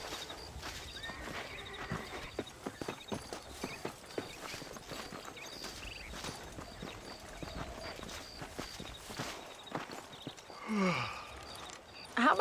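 Horse hooves clip-clop steadily in Red Dead Redemption as a rider moves along, a quick, even run of soft thuds at moderate distance, with a brief whinny-like sound near the end.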